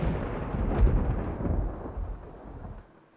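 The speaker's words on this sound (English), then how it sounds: "that bolt of lightning was huge" Thunder from a huge lightning bolt in the Nancy Drew game Legend of the Crystal Skull, a loud, deep rolling rumble that fills the clip and slowly fades toward the end.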